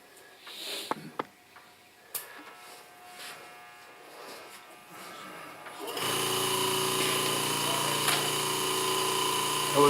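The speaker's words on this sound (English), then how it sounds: "Vacuum pump on." A vacuum pump switches on partway through, replacing quiet workshop sounds and small knocks with a loud, steady mechanical buzz-hum that continues to the end, used for holding a workpiece while making a multi-axis disk vase.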